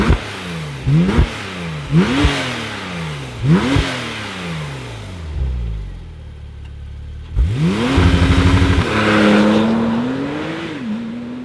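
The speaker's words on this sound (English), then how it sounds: "let's fire this up and hear what it sounds like." A 2019 Porsche 911 Turbo S (991.2) starts up and is revved hard, several sharp blips rising and falling in quick succession, a pause, then a longer loud rev held before easing off; close and powerful.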